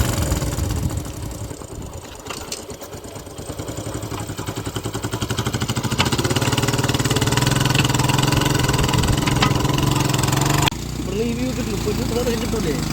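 A motorcycle engine hauling a Chinese fishing net at Azhikode Munakkal beach runs loudly and steadily, close by, with a continuous mechanical drone and a drop in pitch near the end, while people talk over it.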